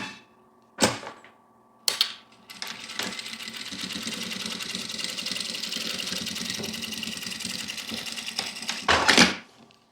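A sewing machine runs a safety seam along fabric, starting after a few clicks and then humming in a steady, close, continuous whir for several seconds before stopping with a final clatter.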